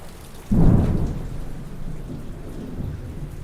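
A close thunderclap bursts and rumbles down into steady rain hissing on a surface, the storm's drizzle continuing evenly after the crack fades.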